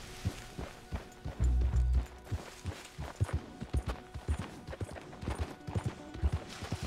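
Horse hooves in Red Dead Redemption 2, an irregular series of clip-clopping thuds on the ground with a brief heavy rumble near the start.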